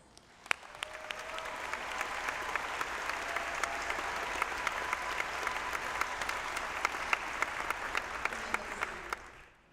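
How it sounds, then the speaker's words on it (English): Sustained audience applause fills a university graduation ceremony at Jacksonville State University, a dense steady clapping from a large crowd lasting nearly ten seconds, with no talk over it. "Please join me in applauding the faculty and thanking them for their contributions to the educational accomplishments of today's graduating class."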